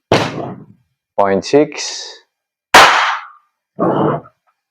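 WE Glock 17 Gen 5 airsoft gas blowback pistol, fired into a chronograph: four sharp, loud, separate shots with a slide snap after each, spaced about a second apart, with one short spoken burst in between.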